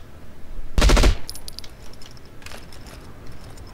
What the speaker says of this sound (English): He pinged me good with that AK